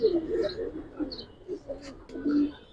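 Giribaz pigeons coo in a loft, with a nearby male giving repeated soft throaty coos in short bursts over faint background rustling.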